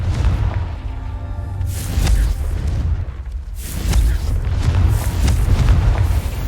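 Fiery spell blasts from a fantasy wizarding game, with booming explosive bursts rumbling over a dense, loud background of game sound for several seconds, swelling twice.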